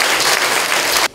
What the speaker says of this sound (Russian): сегодня все дарят вам аплодисменты